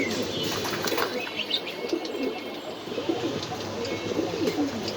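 Pigeons of a dragon breed coo in a loft on a pigeon farm in Mirpur, soft repeated low calls with occasional chirps and wing flaps in the background, steady and moderately close.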